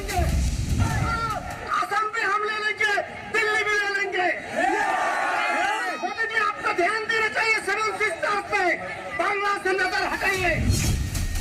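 A violent crowd on the streets shouts and bellows, a dense, sustained roar of many voices with cries rising and falling, mixed under a narrator's talk.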